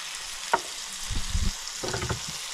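Burger patties and onions frying in grease on a griddle, a low sizzle punctuated by a sharp clack and a few scraping, spatula-like bursts.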